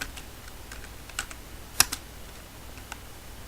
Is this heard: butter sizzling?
no